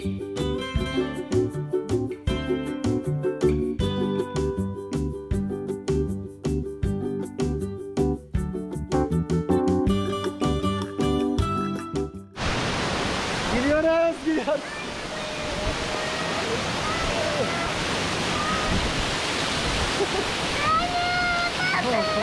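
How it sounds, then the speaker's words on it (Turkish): The 10-metre Sabun waterfall near Düziçi, Osmaniye, roars as a steady broadband rush of falling water. It follows a stretch of music, and a voice is heard over the water toward the end. "dev kazanı ve 10 metrelik bir şelale bizi karşıladı."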